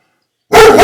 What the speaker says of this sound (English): The dogs bark.